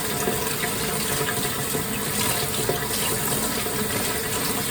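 Tap water running steadily into a kitchen sink while rinsing fresh fenugreek leaves, a continuous close hiss and splatter with no pauses and no voices.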